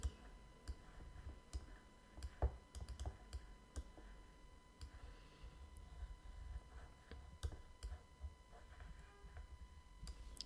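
Sharp, dry clicks of a computer mouse used in Photoshop come at an irregular pace, some in quick doubles, faint and close against a quiet background with no talk.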